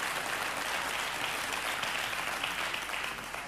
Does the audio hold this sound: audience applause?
yes